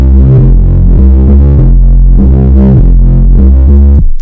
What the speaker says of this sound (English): add some distortion and then a low cut